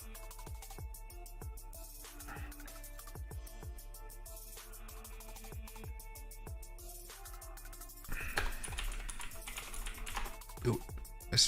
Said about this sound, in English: ooh, let's type that.